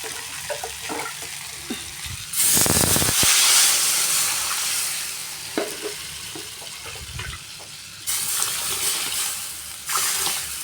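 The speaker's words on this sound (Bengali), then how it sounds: "এবার আমি জল দিয়ে দেবো।" Water poured into a pot of cooking greens: bursts of gushing, splashing pour, loudest early and returning in short spurts later, between quieter stretches of hissing steam and faint clinks, with no talking.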